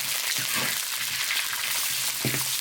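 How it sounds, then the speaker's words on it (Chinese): Smoked cured pork stir-frying in oil in a wok, a steady close crackling sizzle with a few scraping stirs of the spatula, no voices. "腊肉给它爆香"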